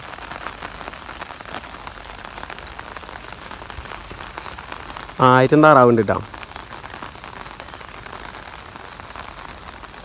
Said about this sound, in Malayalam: മഴ പെയ്ത് തുടങ്ങിയിട്ട് ചെറുതായിട്ട്